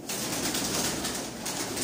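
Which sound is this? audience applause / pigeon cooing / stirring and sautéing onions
pigeon cooing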